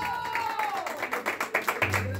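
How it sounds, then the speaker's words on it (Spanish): An audience claps for a youth mariachi group's serenade in Bogotá, a quick scattered patter that builds under a voice, with a low tone entering near the end. "Y el aplauso, ¿dónde está, por favor,"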